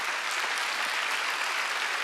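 Sunday worship congregation in a church clapping harder on request, a sustained, dense roar of many hands, loud and steady without pause.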